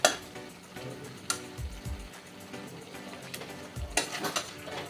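A spoon scrapes and knocks in a pan as mango is mashed and stirred into a rohu fish curry with pointed gourd, giving scattered clinks and soft thuds over a low background, with no talking.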